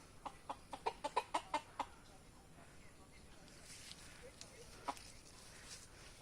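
A native village chicken that has just flown across clucks in a quick burst of sharp, rhythmic calls, followed by a few quieter, scattered clucks against a faint background.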